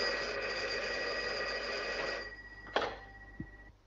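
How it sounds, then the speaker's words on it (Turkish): A telephone rings with a steady electronic trill in a radio audio drama, then cuts off with a click and a brief knock as the line goes quiet. "Raisning xotini uydan telefon qilib, shahardan o'g'li Qozimbek kelganini xabar qildi"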